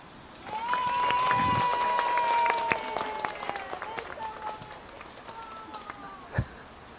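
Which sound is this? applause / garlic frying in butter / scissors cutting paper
applause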